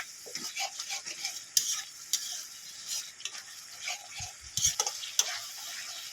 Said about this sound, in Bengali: এবারে আদা রসুনের পেস্ট দিয়ে দেবো মাংসকেও ভালো করে একটু ভেজে নেব